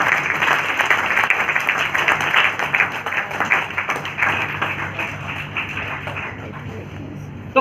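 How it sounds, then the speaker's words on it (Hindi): A seminar audience breaks into loud, sustained applause that gradually fades and thins over several seconds. "एक बार जोरदार तालियां अपने लिए।"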